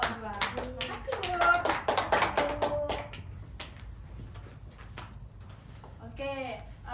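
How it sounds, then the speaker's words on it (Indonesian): Students in a classroom give a short round of clapping for a presenting group, brisk hand claps under children's chatter, fading to quiet before voices return at the end. "Kasih tepuk tangan dulu untuk kelompok 2."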